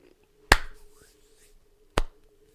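Two sharp, isolated hand claps about a second and a half apart make a deliberate slow clap. Each one is close and crisp, with near silence between them.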